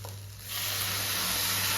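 Grated carrot halwa cooking with thickened milk in a pan, a quiet start giving way to a steady loud hiss of bubbling and simmering, close and continuous without any voices.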